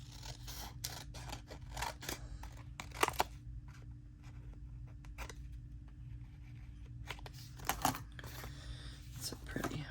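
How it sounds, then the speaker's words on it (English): Scissors trim paper for a junk journal, giving a run of quiet, close snips and crisp paper rustles at irregular intervals against a low steady hum, with a couple of sharper cuts standing out. "we're going to start with trimming this off, and let's see how this, if we need to trim more."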